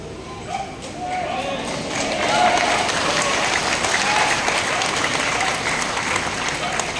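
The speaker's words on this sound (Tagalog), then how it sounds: "Kasi yung palakpak niyo, parang nagpatay kayo ng lamok." An audience at a city anniversary gathering in Iloilo City claps steadily for several seconds, a dense, loud wash of applause that swells slightly midway and holds without letting up.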